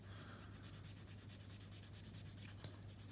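Steady, close rasping of sandpaper rubbed back and forth on a Tamiya 1/32 scale plastic Mosquito aircraft model, a quiet continuous scratching with a regular stroke rhythm and no talk.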